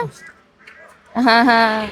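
Ducks at a roadside duck shop give a loud, close burst of quacking after a quieter stretch with faint background calls.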